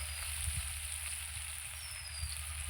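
Onion and turmeric fry in a pan, giving a faint, steady sizzle with a soft low crackle underneath, quiet and continuous throughout.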